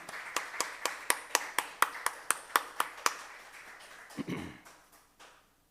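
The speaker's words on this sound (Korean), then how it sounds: "우리 다 같이 박수로 모시겠습니다" About a dozen sharp, evenly spaced claps ring out alone at a church Sunday worship service in a steady rhythm, ending with a brief low rustle.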